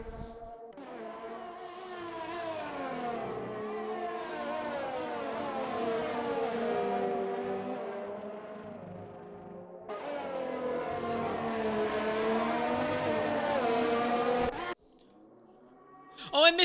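Race cars lapping a circuit in Belgium in a racing game, a high whining engine note rising and falling through gear changes, one car fading out and another winding up, ending abruptly.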